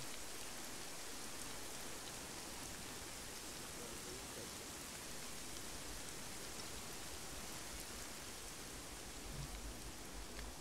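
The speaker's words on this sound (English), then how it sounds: "That's a short rain." Rain falls in a multiplayer military video game, a steady dense hiss of rain at low level that holds evenly throughout with no other clear sounds.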